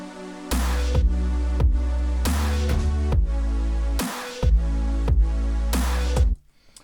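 Bright, buzzy supersaw synth chords in a repeating pattern, each sustained chord cut sharply before the next, loud and wide with no voices.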